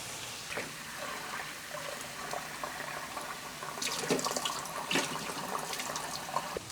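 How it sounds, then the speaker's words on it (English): Split peas are rinsed under a running kitchen tap, a steady faint stream of water with louder splashing and rattling bursts as the peas are swirled in the sink, no talking. "let me wash this first, then we add the water."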